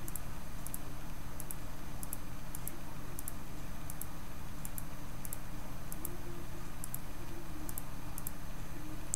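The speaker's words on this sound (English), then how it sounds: "if you hear a mouse clicking, that's because, yes, I do have a wireless mouse" Light, crisp clicks from a wireless computer mouse repeat in a steady rhythm over a constant background hiss, with no voices.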